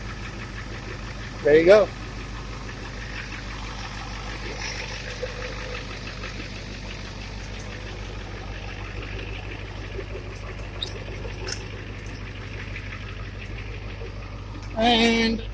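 A Ford 7.3 IDI diesel engine idling with a steady low rumble and a light knocking clatter throughout, with a brief louder rev near the start and another near the end. Someone speaks briefly.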